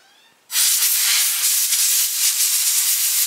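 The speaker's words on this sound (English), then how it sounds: "first blow it out with air compressor" Compressed air blasts through a dry pod-style air filter from the inside out, a sudden loud, steady hiss that bursts on after a half-second of quiet and holds with small fluctuations.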